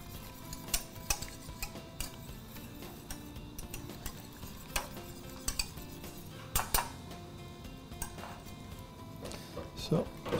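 Gelatine is stirred into custard in a pan, with faint scattered clinks of a utensil against the pan over a steady low background. A voice speaks softly under it.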